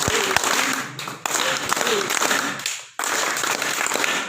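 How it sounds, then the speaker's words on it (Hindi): A village gathering in Bulandshahr claps hands together in dense bursts with brief pauses between, loud and close, while a voice speaks over the clapping. "अब ताली बजाओ, कैसे बजाओगे?"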